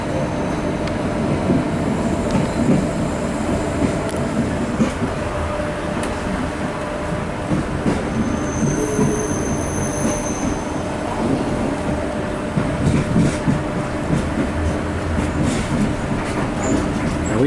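Passenger train running down the Spanish coast out of Barcelona, heard from inside: a steady loud rumble of wheels on track with faint clicking joints and a brief high squeal of wheels partway through, no voices.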